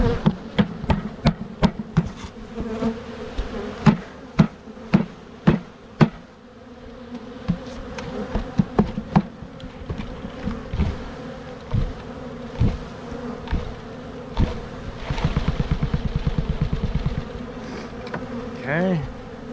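Honey bees being shaken from a can into a hive on a farm, a steady insect buzz with a run of sharp knocks and thumps as the container is tapped, and a louder dense burst of buzzing near the end.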